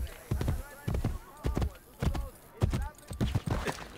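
Horse hooves clop in Assassin's Creed Brotherhood Remastered on PS5, a regular moderately loud plodding beat of paired footfalls that keeps going while a person talks over it.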